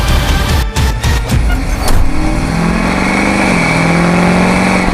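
A car engine revs loudly and close by as the vehicle sets off on a road drive, with a few clicks at first, then a steady drone that climbs in pitch.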